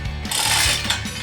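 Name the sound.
chain being tightened to pull out a submersible well pump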